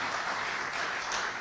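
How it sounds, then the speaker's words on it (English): A stadium crowd applauds Bryan at a Scotland v Hungary matchday broadcast, a dense, steady wash of distant clapping through the whole brief moment. "that's a brilliant round of applause there for Bryan"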